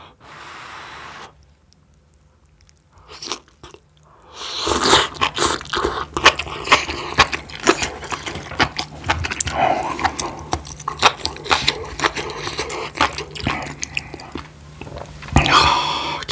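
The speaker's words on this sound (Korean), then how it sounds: "씹는 소리 끝내주겠지, 이거?" Close, loud chewing of soft ramen noodles and enoki mushrooms with shrimp, wet smacking and slurping bites repeated steadily after a short quiet start.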